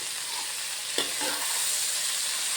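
Onions drop into hot oil for a bitter gourd fry, and a sudden crackle gives way to a continuous, fairly loud hiss of frying that holds steady to the end.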